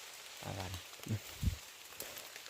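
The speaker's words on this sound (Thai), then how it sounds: "ฝนก็เริ่มตกมาอีกแล้ว" Steady rain falls through a wet morning, a soft continuous wash behind a person who speaks briefly in short bursts.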